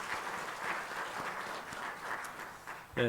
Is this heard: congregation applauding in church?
yes